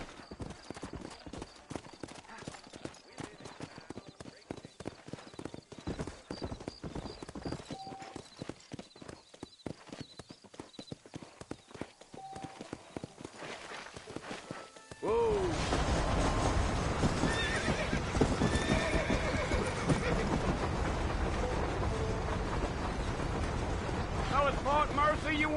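Horses clip-clopping at a trot through a town in the video game Red Dead Redemption, with steady hoofbeats and an occasional whinny, becoming louder and windier partway through as the ride continues.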